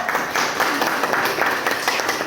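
A school class applauds together, a dense, steady patter of many hands clapping at fairly even loudness for a couple of seconds.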